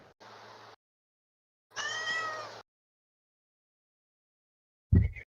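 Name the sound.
unhappy cat meowing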